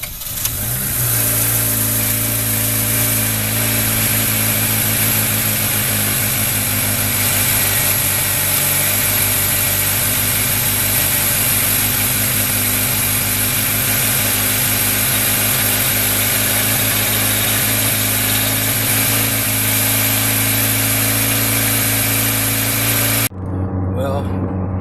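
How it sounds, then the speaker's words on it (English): A car engine fitted with a newly replaced idle air control valve starts and settles into a steady, loud idle that runs for about twenty-three seconds, then cuts off abruptly. "we're going to go ahead and start the engine up now"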